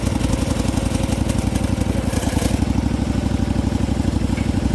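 A small homemade wheel loader's engine runs steadily and loudly up close, a continuous throbbing putter like a lawn mower or small motorcycle engine, with light mechanical clatter and no talking.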